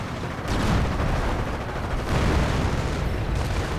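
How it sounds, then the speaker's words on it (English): Artillery barrages rumble in a World War II real-time strategy game, a dense, continuous roar of booms and blasts that swells in waves with no voice over it. "And artillery going in."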